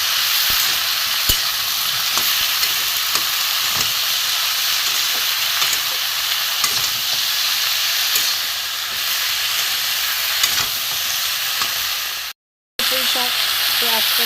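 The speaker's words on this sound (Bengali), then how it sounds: "এবারে মশলা দিয়ে একটু কষিয়ে নেবো।" Spices for a hilsa fish head and Malabar spinach curry fry and are stirred in a pan, giving a steady, close sizzle with intermittent scraping throughout and a brief cut near the end.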